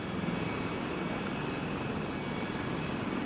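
A US Marines CH-53K King Stallion heavy-lift helicopter produces a steady, dense rotor and turbine roar, loud and continuous throughout with no voices.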